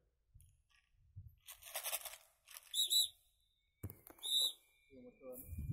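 Pigeon whistles give high, airy tones in two short bursts amid rustling and crunching noises, with some quiet voices nearby, during a pigeon free-flight session in Sragen.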